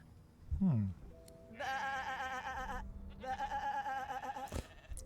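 A voiced sheep in the video game Divinity: Original Sin II gives a quick low call, then two long wavering bleats, clear and close, with no speech over them.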